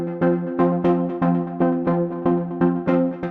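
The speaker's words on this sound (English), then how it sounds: "start with this Pluck synth sound" A plucked synth repeats a single note in a steady rhythm, about a dozen short, bright attacks that each decay quickly, clear and upfront with no voices.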